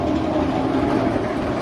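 A roller coaster train on Nitro at Great Adventure rumbles steadily as a continuous loud mechanical roar, with broadband rail and engine noise throughout and no voices.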